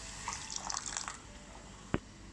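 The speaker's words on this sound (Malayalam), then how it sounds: "ഇതിലേക്ക് 1/2 കപ്പ് വെള്ളം കൂടി ഒഴിച്ചു കൊടുക്കാം." Half a cup of water pours into sugar in a pan on a home stove, a short close splashing trickle that ends with a single small knock.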